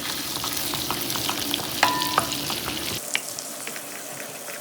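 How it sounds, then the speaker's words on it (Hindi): Garlic fries in ghee and butter in a kadhai, making a dense, close sizzling hiss with light stirring scrapes. The low rumble drops away partway through while the sizzle continues. "पहले हम डालेंगे लहसुन, थोड़ा सा इसको भून लेते हैं"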